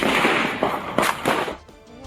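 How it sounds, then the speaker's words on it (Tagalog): Successive gunshots ring out during a police buy-bust operation turned firefight in Sultan Kudarat, a quick series of sharp cracks within two seconds over a noisy background, fading at the end. "Dinig ang magkakasunod na putok ng baril nang mauwi sa engkwentro ang operasyon ng pulisya."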